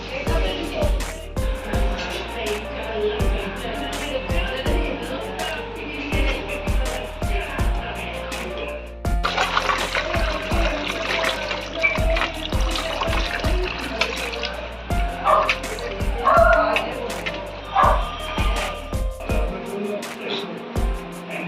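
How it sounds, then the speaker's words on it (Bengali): Singhi fish are rinsed and rubbed clean in water in a home kitchen, with irregular splashes, trickles and clinking against the bowl continuing throughout at close range. "মাছগুলো আমরা ভালো করে ধুয়ে নিয়েছি।"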